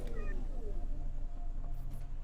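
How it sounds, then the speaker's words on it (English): A house cat gives a brief, close meow with a rising then falling pitch, over steady low background hum and faint game sounds. "Does someone just have a cat?"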